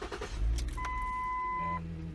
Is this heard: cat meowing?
no